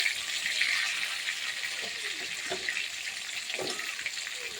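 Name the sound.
fish frying in oil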